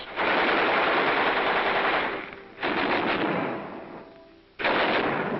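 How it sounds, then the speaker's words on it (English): Marines test-firing machine guns in 1944 wartime preparations: loud, dense bursts of rapid gunfire that continue in long sustained strings, breaking off briefly twice before resuming, with no voices present. "Check and test fire all weapons."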